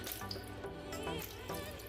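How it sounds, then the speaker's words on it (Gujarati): Cold water runs from a tap into a bowl of rasgulla chhena dough, a steady close splashing flow with faint trickles and no voices. "આપણે આના ઉપર થોડું થોડું કાઢી અને ઠંડુ પાણી એડ કરીશું"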